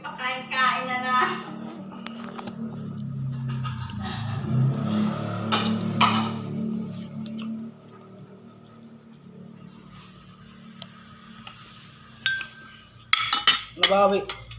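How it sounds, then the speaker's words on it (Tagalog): Dishes being washed, plates and cutlery clinking and clattering in irregular bursts under running water and room noise, with people talking. "Maghugas ka ng pinggan."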